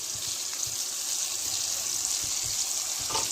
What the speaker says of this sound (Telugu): వాటర్ వేసుకొని కాసేపు మూత పెట్టేసి ఉడకనిద్దాము.